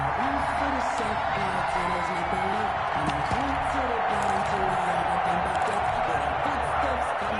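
A large stadium crowd at a Titans–Packers American football game roars in a steady, dense wash of cheering, with a commentator's voice running over it throughout.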